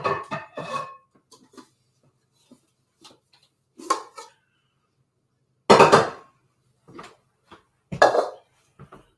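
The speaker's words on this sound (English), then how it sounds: "I'm just going to get a strainer out." Metal kitchen utensils and dishes clatter as a strainer is pulled out, several separate bursts of clanking spread over a few seconds, close and fairly loud, with no speech.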